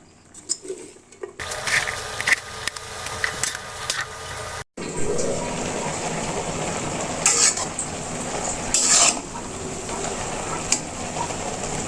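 Greens being stir-fried with potatoes and jackfruit seeds in a pan: a steady hiss of frying with scraping stirs and clinks of a utensil against the pan, loud and close throughout, with no talking.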